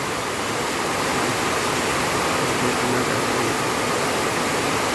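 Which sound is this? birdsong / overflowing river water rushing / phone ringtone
overflowing river water rushing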